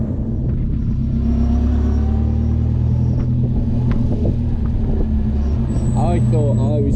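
Inside a 1929 Blower Bentley on the move at Le Mans, a constant loud roar of wind and engine rumble fills the cabin, steady and close throughout.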